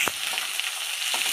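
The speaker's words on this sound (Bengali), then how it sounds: "পেঁয়াজ আর রসুন দিয়ে দিয়েছে কড়াইয়ে" Onion and garlic fry in hot oil in a kadai with a steady, bright sizzle and a couple of soft knocks, close and alone for a brief moment.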